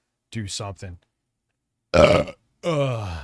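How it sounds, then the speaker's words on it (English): A loud, close burp blasts directly into the microphone after a person says a few words, followed by a second voiced, burp-like sound. "So sorry about burping violently into the mic."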